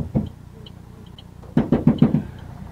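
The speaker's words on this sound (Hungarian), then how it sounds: "ez a hang pedig a kocsin belülről szól. Olyan, mintha a tetőn kopogtatnának." Knocking on a car roof, heard from inside the vehicle on the M0 motorway: one dull thud, then a quick cluster of four or five hollow knocks close together, over a faint low cabin hum.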